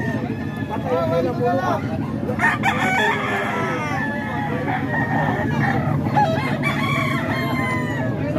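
A Boston Gray rooster crows repeatedly among other fowl at a poultry market, the calls loud and close over a steady crowd babble with people talking throughout.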